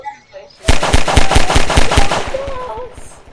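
Rapid automatic gunfire in Garry's Mod, about a dozen loud, evenly spaced shots in a quick burst, close up, with a brief voice faintly under the tail.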